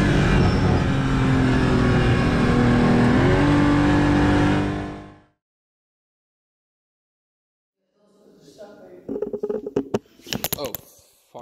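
A Porsche Cayman GT4 CS at full throttle on the Spa-Francorchamps circuit, its engine roaring loud and close with rising pitch for about five seconds before cutting out, followed by silence and then scattered bumps and knocks.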